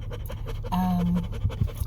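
A dog tired out from playing ball pants close by, with quick rhythmic breaths, a brief scratch or shuffle, and a short tonal whine in the middle.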